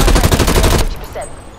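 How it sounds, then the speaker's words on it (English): Sentry turret in a video game firing a loud, rapid burst of automatic gunfire for about a second, then cutting off abruptly into faint ambient hum and a brief electronic tone. "Hostile sentry turret active."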